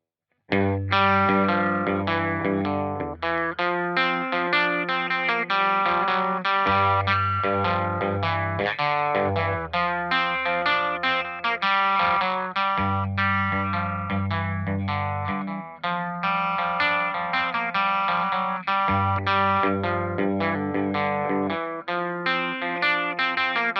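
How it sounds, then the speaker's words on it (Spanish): Electric guitar played through a Dr. Robert distortion pedal, loud sustained chords and riffs with a gritty overdriven tone and chorus-like shimmer, played alone. "el Dr. Robert no es solo un pedal de distorsión, sino que si reducimos la ganancia puede actuar como una especie de previo para cambiar el tono de tu guitarra"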